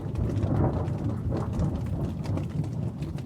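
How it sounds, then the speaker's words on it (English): Thunder rumbles low and continuously along the John Muir Trail near the base of Donahue Pass, mixed with steady rain pattering on surfaces, a dense, sustained outdoor storm wash with no voices. "Hopefully you could hear that thunder."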